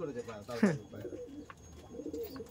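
Kaldama pigeons in a breeding loft coo close by in soft, throaty bursts, with a louder rolling coo standing out, while a person talks nearby.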